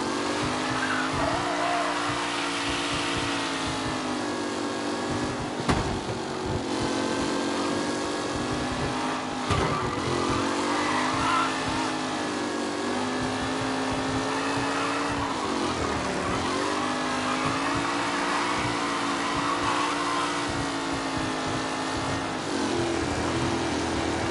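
Race cars from the video game Mafia roar past during a race, with engines droning and shifting pitch, and occasional tire squeals and bumps over a continuous motor hum.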